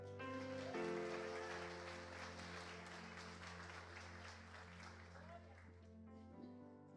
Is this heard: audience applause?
yes